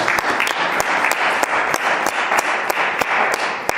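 A church congregation applauds for Jesus during a service, with dense, steady hand clapping and some rhythmic claps standing out, loud and close throughout.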